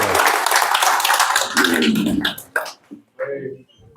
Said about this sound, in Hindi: जोरदार ताली हो जाए भाई